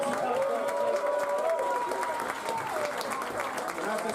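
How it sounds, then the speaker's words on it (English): Audience at a Bath Comedy Festival new act grand final applauding the contestants: steady, continuous clapping that fills the room, with voices carrying over it. "Give them a massive round of applause"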